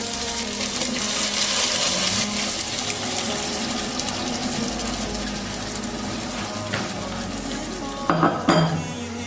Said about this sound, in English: Our onions are now well cooked, so I will go in now with our tomato puree